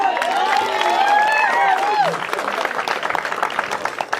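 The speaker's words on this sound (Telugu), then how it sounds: "చప్పట్లు కొట్టాలి" Audience applause at a live performance: a sung or chanted voice with wavering tones comes first, then a dense burst of many hands clapping takes over and continues steadily to the end.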